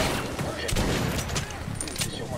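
Gunfire in the shooter Metro: Last Light Redux, a dense burst of shots with low booms that runs steadily through the whole moment, close and loud, with other game noise mixed in.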